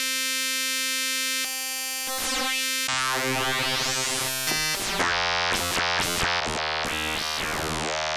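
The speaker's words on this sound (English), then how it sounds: "Let's do a sine wave." Synthesizer tones, starting as a steady pure sine-wave hum, then shifting through sweeping, wobbling pitches and stacked harmonics that rise and fall.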